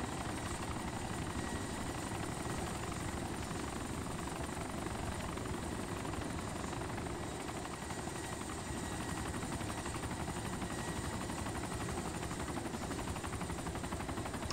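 A helicopter in the video game ArmA 2 Wasteland drones with a loud, steady rotor thump and engine whine that holds unbroken throughout.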